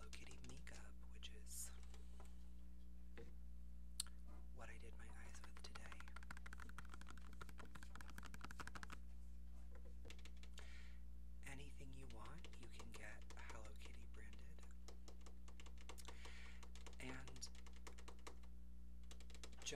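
Fingertips and nails tap on plastic novelty landline phones, including Hello Kitty models, in an ASMR session; close, soft, irregular clicks and taps run throughout, with quiet whispering at times.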